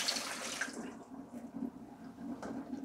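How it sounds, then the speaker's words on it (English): Cashew soaking water poured from a cup through a kitchen strainer, a steady soft trickle and splash running for the whole span, fairly quiet and close, with no voices. "I'm gonna take this cup with cashew water and I'm gonna strain it."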